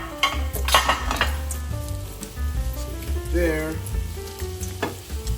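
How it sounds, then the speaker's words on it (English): Mushrooms sizzle and fry in a home kitchen pan, a steady loud crackle with occasional clinks of utensils and stirring, while a voice speaks briefly over the cooking. "Let's cook the mushrooms."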